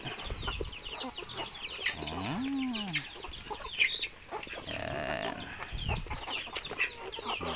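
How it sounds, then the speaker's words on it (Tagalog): Farmyard poultry chatter: chickens clucking and squawking nearby, with a few duck calls mixed in, steady and busy throughout. "halo halo na yung manok at bibi yan mga kapatid"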